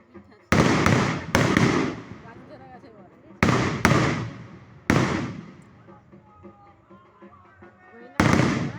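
Firecrackers going off close by in sharp, loud bangs, five or six separate blasts spaced irregularly, each trailing off with a brief echo, with voices talking faintly in between.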